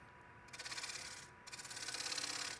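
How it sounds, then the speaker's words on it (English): A wood turning gouge scraping the bottom of a spinning turned yarn bowl on a lathe, two sustained rasping passes separated by a brief pause, close and fairly loud with no talking. "I'm going to use the gouge, just scraping."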